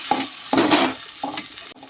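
Dal khichdi with fresh tempering is stirred in a pot, three quick close scraping strokes of a spoon over a soft sizzle, ending in a brief knock.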